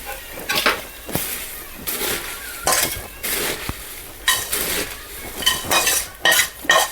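A spoon scrapes and clinks against a metal pan as poha chivda is stirred with masala. The strokes come in uneven bursts of scraping and knocking, close and fairly loud, and no one speaks.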